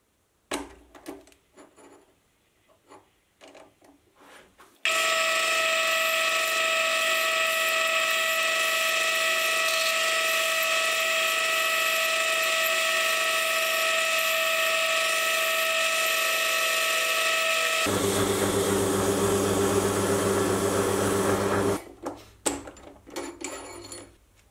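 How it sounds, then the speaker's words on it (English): Metal lathe turning a roughly 4-degree taper on steel stock for a vintage-style ratchet screwdriver blade, a loud steady machining whine from about 5 to 22 seconds, shifting tone partway, with quieter shop clatter before and after. "The first thing I'll do is turn down the taper for the blade."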